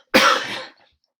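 A single cough from a person with a lingering cold, one loud harsh burst that fades over about half a second, close to the microphone with no talking.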